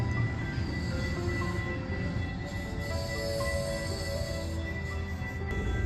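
A Metrolink train rumbles steadily at a station beside an old train depot in Upland, California, a continuous loud low roar with faint squeals above it and no talk.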